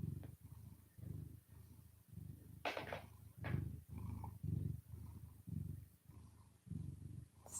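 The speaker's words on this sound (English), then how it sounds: "Still purring." Cat purring, a soft rhythmic rumble of repeated low pulses with steady breathing cycles, faint and close, running throughout without speech.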